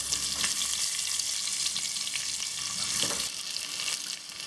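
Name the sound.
onions, green chili, ginger and garlic sautéing in a pan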